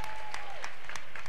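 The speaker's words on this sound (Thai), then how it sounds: "ขอเสียงปรบมือให้พรีเซนต์ของ Kids Gallery ทางนี้เลยนะครับ" Audience clapping for a Kids Gallery presentation at a Nexus Bangkok anniversary senior and kids show, loud and close, with a few sharp individual claps standing out over a faint steady tone.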